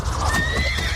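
A horse neighs loudly and close, one sharp whinny lasting about a second, with a hint of hoof clip-clop beneath.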